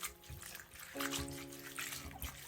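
Water tipped off rinsed sea moss trickles and splashes steadily up close in a kitchen setting, with a few small bursts and no voices.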